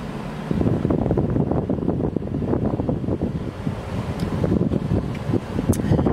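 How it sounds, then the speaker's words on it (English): Strong gusts buffet an outdoor microphone with steady low rumble throughout, loud and continuous, outside a coffee shop with no talking. "I feel like the wind's gonna mess up my shot"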